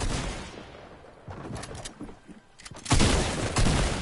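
Rapid gunfire bursts from a video game shooting match, scattered faint shots early then a loud, dense volley in the last second, with no talk over them.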